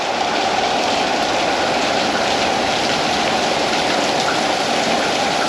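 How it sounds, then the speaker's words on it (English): Heavy rain pours steadily during a Texas tornado storm with rising wind, a loud, unbroken hiss of water that stays constant throughout. "I think the rain's gonna slow down, but we'll wait a little bit."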